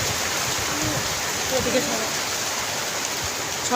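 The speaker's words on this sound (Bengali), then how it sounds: "এই দেখো কি বৃষ্টি হচ্ছে বাইরে, খুব বৃষ্টি হচ্ছে।" Heavy rain falls outside, heard from indoors near a window as a steady, even hiss of downpour that stays constant throughout.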